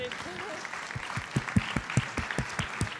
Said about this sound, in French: je vous propose encore une fois d'applaudir nos 2 premières intervenantes de la journée